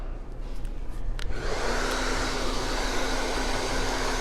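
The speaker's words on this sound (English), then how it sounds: "So now I'm going to pick up my dryer" A hair dryer switches on and blows with a steady, loud, close whoosh during a layered haircut, the airflow holding even to the end with a faint motor whine and no talk.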